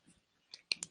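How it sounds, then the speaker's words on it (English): A computer mouse gives a few quick, sharp clicks close by in near silence, a faint tap first and then a tight burst of clicks at the end. "So I'm going to double click."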